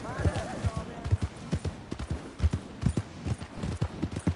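Horse hooves clip-clop steadily in Red Dead Redemption 2, a regular string of close, hollow thuds continuing throughout while someone talks over them.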